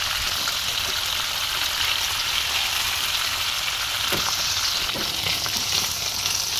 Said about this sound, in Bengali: হালকা ভেজে নেবো, বেশি একটা ভাজবো না